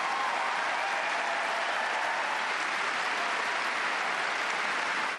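Continuous applause from a tennis crowd at Wimbledon, a dense, even wash of clapping that holds steady for several seconds before cutting off abruptly.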